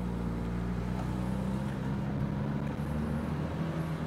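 A Porsche GT3 RS drives at low speed, heard from inside as a steady low engine drone and road rumble with a faint higher whine, continuous and fairly loud.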